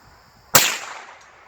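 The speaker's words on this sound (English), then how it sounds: "Now I'm shooting through the grass." A single sharp rifle shot fired from a squatting position through grass outdoors, a loud close crack followed by a short decaying tail.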